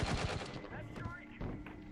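Pistol fire in the 2010 Medal of Honor video game: a dense, loud burst of sharp overlapping shots up front, then a short lull and another cluster of reports, with busy game noise throughout.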